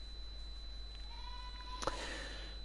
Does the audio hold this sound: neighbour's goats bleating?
yes